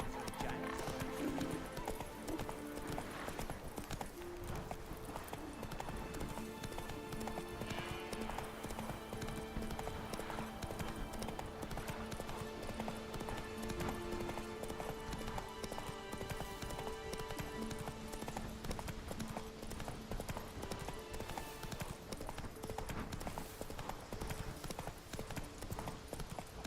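Galloping horse hooves in The Witcher 3 video game beat in a fast, continuous clip-clop throughout. The sound is steady and fairly faint, with occasional whinnies and a voice talking over it.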